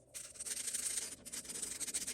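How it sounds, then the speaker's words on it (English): Quick, steady rubbing strokes of sandpaper on whittling knife blades made from old chisels, a soft rhythmic scratching heard close and alone. "I'm just going to give them a wee sand"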